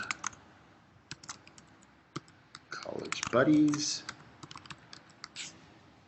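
Scattered computer keyboard key clicks come in sparse, quiet bursts, with someone speaking over part of the typing.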